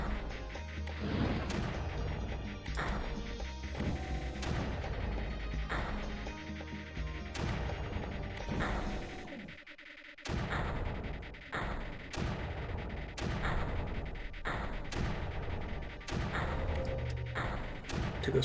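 Turrets in the video game Creeper World firing over and over, dense booming and crashing blasts that keep hitting at irregular intervals, with a short lull partway through.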